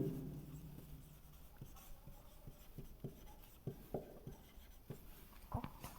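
Writing on a classroom board during a physics lecture, with a run of short, crisp strokes and taps spaced unevenly, close but soft against a faint room hiss, with no voices.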